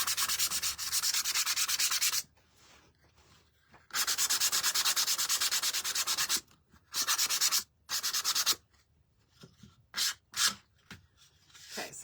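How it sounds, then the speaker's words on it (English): Sanding a gingerbread-style JOY craft plaque by hand, a loud, close, broadband rasping scrape in long sustained strokes broken by short pauses, with several brief bursts toward the end and no talking. "I'm going to sand it a little bit more"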